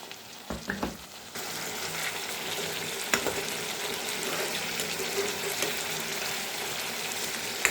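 Meat frying in a pan with ginger and garlic and being stirred, a steady close sizzle throughout with occasional scraping and clinking of the utensil.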